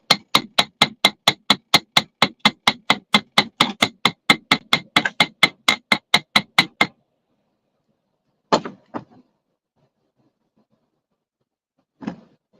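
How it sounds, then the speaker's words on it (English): Hammer on craft wire while making dangly beaded earrings: a fast, steady run of about thirty sharp metallic taps over roughly seven seconds, then silence broken by a few isolated knocks. "I should not talk while I'm hammering."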